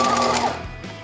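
Sewing machine with a double needle stitching fringe onto a garment hem, a short close motor whir that winds down after half a second, with no talking.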